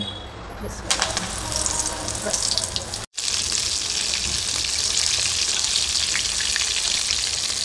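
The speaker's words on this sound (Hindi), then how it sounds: "अब इसको डीप फ्राई करूँगी" Chicken cheese palak kebabs deep frying in hot oil, a steady, close, hissing sizzle that continues with only a momentary break.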